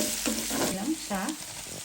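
Radish greens (mulo shak) sizzle in a pan with turmeric for a Bengali-style fry, a brief close crackle. Two short bursts of stirring carry through it.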